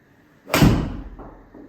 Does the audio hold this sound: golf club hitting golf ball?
yes